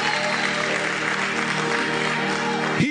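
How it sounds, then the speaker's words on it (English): Congregation in a church service applauding warmly, a dense continuous wash of clapping from a large crowd that holds steady and then tapers at the end. "let's receive him with a warm round of applause"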